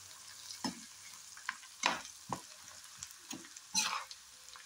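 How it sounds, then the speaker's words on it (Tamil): Spices and asafoetida sauté in a pan for lemon rice, with a few scattered spoon scrapes and soft knocks over a faint, quiet background; no one speaks. "இதெல்லாம் சேர்த்து நல்லா வதக்கிக்கலாம்."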